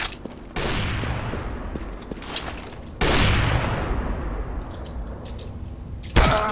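Sniper rifle fire in the shooter Counter-Strike: loud, booming shots with long rumbling decays, one at the start and a bigger blast midway, with a dense continuous roar of game noise between them.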